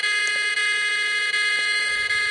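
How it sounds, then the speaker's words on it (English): An electronic patient-alert alarm triggered through a Makey Makey board sounds a continuous loud, harsh buzzing tone. It is steady and close throughout, with no talk. "an alarm is set off"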